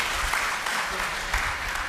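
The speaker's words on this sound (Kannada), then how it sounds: "ನಿಮ್ಮ ಚಪ್ಪಾಳೆ ಅವ್ರಿಗೆ ಬರಲಿ ಅಂತ ನಾನು ವಿನಂತಿ ಮಾಡ್ತೀನಿ" Applause from an audience at a Karnataka Uppara community gathering, a steady, dense wash of clapping that holds evenly for the full two seconds with no speech over it.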